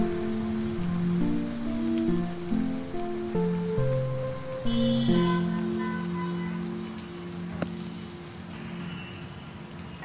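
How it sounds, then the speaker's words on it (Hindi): A bread snack deep frying in hot oil until golden brown, a steady rain-like sizzle running beneath prominent background music. "सुनहरे होने तक पकाएं, यानी गोल्डन ब्राउन होने तक इसको फ्राई करेंगे हम."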